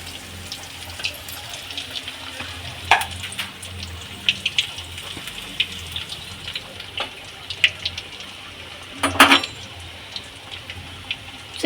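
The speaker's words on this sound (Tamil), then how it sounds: "சிக்கன் நல்லா ஃப்ரையா இருக்கு" Chicken 65 deep-fries in hot oil at home, giving a continuous bubbling hiss with scattered sharp crackles and pops, close and moderately loud.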